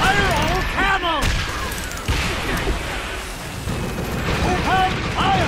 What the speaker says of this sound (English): Fire all cannons!